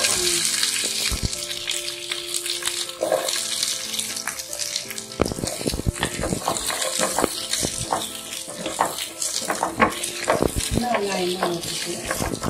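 Small onions frying in a pan for village-style mutton kulambu, a loud steady sizzle with frequent clatter and scraping of a ladle stirring, close up, with brief faint voices in the background.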